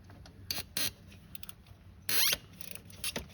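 Ratchet wrench loosening a bolt on the charge pipe of a 2013 BMW 335i xDrive F30 with N55 engine, heard as a few short, close clicking bursts of the pawl separated by quiet pauses.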